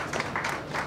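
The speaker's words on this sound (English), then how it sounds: "let's clap for them, because you are helping the economy of Ghana." An audience at a business conference in Ghana applauds, a brief burst of steady crowd clapping at moderate distance.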